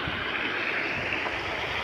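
Pumped water rushing steadily along an earthen channel on a farm toward an onion plot, once the electric pump restarts after a power cut; a continuous, close, broad hiss with no break and no voices.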